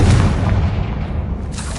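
In Hogwarts Legacy, a Confringo blasting spell detonates as a loud, close booming explosion with a deep rumbling body that sustains and then fades, followed by a short bright burst near the end.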